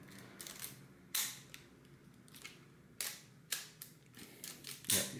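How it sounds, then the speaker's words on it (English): An Olympus OM-2n SLR camera fires its shutter several times in a small room that amplifies sound. Each release is a crisp, sharp click, spaced unevenly about a second apart, alone and close. "it is really a sweet shutter for an SLR."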